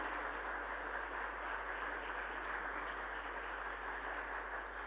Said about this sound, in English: Please welcome our speakers on stage with a loud round of applause.